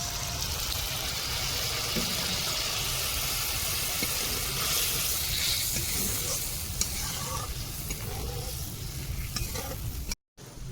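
A spicy mustard paste for a Bengali hilsa curry sizzles steadily in a hot pan as a little water is added, a continuous close frying hiss with faint stirring and scraping that runs alone, without pause, before cutting out briefly near the end.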